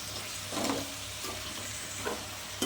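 Chicken curry with drumstick leaves frying and being stirred in a pan, a continuous soft sizzle broken by a few scraping stir strokes and occasional spoon clinks, close and moderately quiet.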